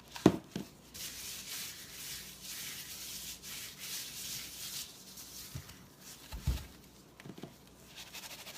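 Hands rub a dry spice rub over a frozen pork butt, a soft continuous close-up scraping and patting with a few sharper handling bumps, alone and without talk.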